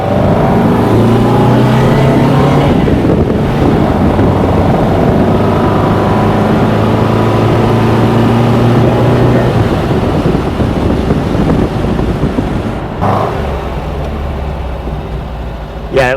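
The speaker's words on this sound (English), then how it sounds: "He was complaining about, you know, the shudder from first gear takeoff" A 1971 VW Squareback engine droning and revving as the car pulls away in first gear, loud and close for a long stretch before easing down near the end, with no clear voice over it.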